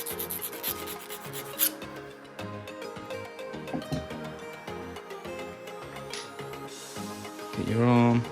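A file rasps back and forth across the freshly cut end of an RC arm insert on a Rival MT8 basher, clearing burrs in a close, uneven scraping rhythm with some talk mixed in.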